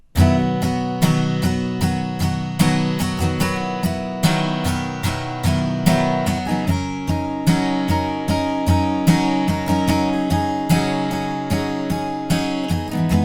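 Guitar playing the instrumental section of a song with an added melody line: continuous rhythmic strumming with picked melody notes over ringing chords, close and steady for over thirteen seconds, no voices.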